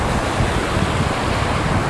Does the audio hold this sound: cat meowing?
no